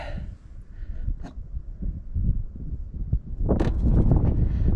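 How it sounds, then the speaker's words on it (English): Outdoors at a Leonora gold-prospecting site, gusting wind buffets the microphone as a continuous low rumble, swelling louder toward the end. "wind's disturbing it a little bit"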